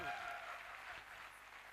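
An audience at a direct-selling seminar claps together in a dense, steady wash of applause that fades slightly over a couple of seconds, heard on its own without talk.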